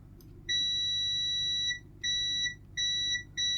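A multimeter's continuity beep sounds while a fuse is checked inside a faulty Revitive circulation booster: one longer steady tone followed by three shorter beeps, loud and clear with no talking.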